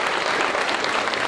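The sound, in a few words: audience applause for a senator at a news conference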